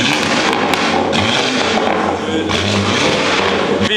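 Loud exhaust roar from a car at a nighttime car meet in Garden Grove, sustained and close with rough popping, filling the scene without a break.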